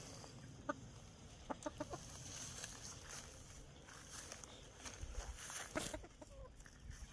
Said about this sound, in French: Je t'ai rendu ta poule.